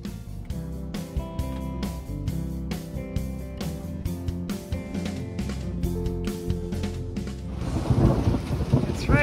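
Steady heavy rain falls outdoors beside a backyard cat enclosure while deep thunder rumbles continuously underneath, a dense, loud wash that swells toward the end.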